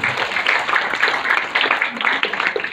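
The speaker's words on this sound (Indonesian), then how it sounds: "Tepuk tangan untuk Pak Junaidi dulu." An audience at a school gathering in Padang claps for the principal, Pak Junaidi: dense, fairly loud applause in uneven surges, with no one talking.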